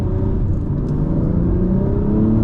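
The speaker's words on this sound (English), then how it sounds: "I'm gonna do one more rev rip real quick." Acura TLX Type S fitted with a PRL high-flow intake revving, a short, steady, loud engine rumble heard close up with no talk.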